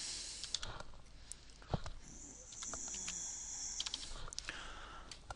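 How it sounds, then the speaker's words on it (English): Someone types a short word on a computer keyboard, producing a close, light patter of irregular key clicks with a few brief pauses between them. "I'm just going to type Dougal."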